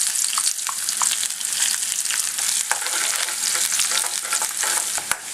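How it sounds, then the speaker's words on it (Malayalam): Sliced shallots and mustard seeds frying in hot oil for a Malabar chicken curry, a steady close sizzle with occasional sharp pops and spatters, no voices. "3 ചെറിയ ഉള്ളി വട്ടത്തിലരിഞ്ഞത്, അത് കടുക് പൊട്ടിക്കഴിയുമ്പോൾ ആ ഉള്ളി ചേർക്കാം."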